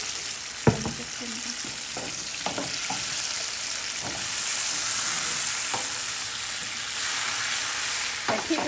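Rice noodles stir-fry in a pan with a steady sizzling hiss. Occasional sharp clanks from stirring punctuate the frying.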